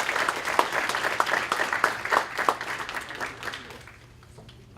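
An audience applauds to welcome presenters at a youth mental health rights talk, a steady patter of many hands clapping that gradually thins and fades out.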